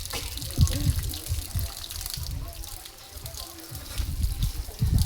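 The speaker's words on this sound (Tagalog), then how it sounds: "Shower na." Water from a newly fitted shower head runs steadily, a hissing spray with splashing bursts, close and moderately loud, while people talk intermittently over it.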